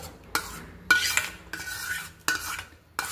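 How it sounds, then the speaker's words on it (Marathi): Mango pulp being stirred into a pan of coconut, milk and sugar for mango barfi, a spoon scraping in five or six distinct sweeping strokes, each a bright scrape that fades before the next, close and fairly loud with no talk. "सर्व मँगो पल्प ऍड करून घेते या पद्धतीने आणि सगळं मिक्स करून घ्यायचं"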